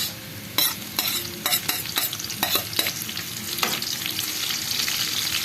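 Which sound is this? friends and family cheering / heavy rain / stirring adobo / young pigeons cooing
stirring adobo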